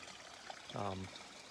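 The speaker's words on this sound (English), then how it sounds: "we've got a nice little stream here for collecting water" A small mountain stream trickles softly at a campsite in New Hampshire's White Mountains, a faint steady wash of water with a brief low voice sounding over it midway.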